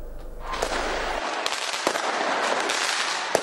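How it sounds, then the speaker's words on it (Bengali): New Year fireworks burst over Dhaka at midnight, a dense crackling roar with sharp distant bangs and pops layered over a steady wash of noise, no voices heard. "জমকালো আতশবাজি আর বর্ণিল আলোকছটায় রঙিন ঢাকার আকাশ"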